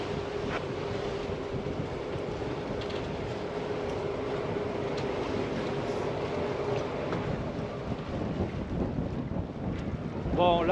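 Steady rushing wind of about 13 knots buffets the microphone aboard an Outremer 55 catamaran nearly head to wind on open water, a continuous broadband roar with faint creaks, rising slightly louder at the end.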